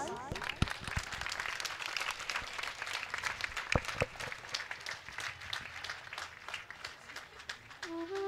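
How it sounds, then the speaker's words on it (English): Audience applause at the Ganga Aarti ceremony of the International Yoga Festival at Parmarth Niketan: a steady wash of crowded hand claps lasting throughout, with a voice speaking over it and faint tones near the end. "And a big round of applause."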